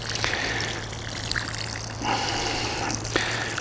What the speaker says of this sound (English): So I'll usually mix some up after I get them planted, water them with it just a little bit